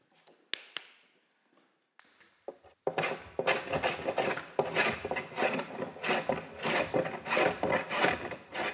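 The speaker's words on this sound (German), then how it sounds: "Die Leimreste auf dem Kopfteil werden grob von Hand abgehobelt." A hand plane rasps across a pine headboard, shaving off glue residue in repeated scraping strokes after a few sparse knocks and taps, close and fairly loud.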